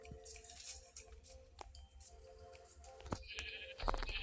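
Faint sheep bleats from two sheep surface amid quiet Minecraft-style survival game sounds, with a few brief drips and clicks scattered across the moment.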